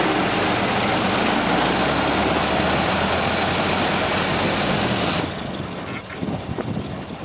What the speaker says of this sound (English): The Model T has a 4-cylinder engine with 20 horsepower and it gets about 18 miles per gallon.